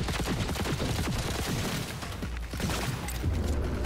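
Rapid, overlapping shotgun blasts and other gunfire in the video game Cyberpunk 2077, loud and dense throughout with a brief lull midway.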